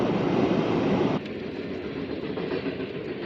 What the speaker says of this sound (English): Gotta wait on the train.